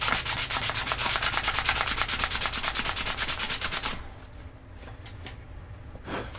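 Sandpaper wrapped on a makeshift block is worked back and forth along the cut edge of a computer case window, a loud, steady rhythmic rasping of quick strokes that stops partway, leaving quieter handling noise and a brief scrape.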